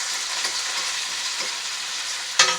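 Onions and green peppers sauté in a pan over low-to-medium heat, giving a steady, close sizzle that holds without a break and ends with a brief louder burst of hiss.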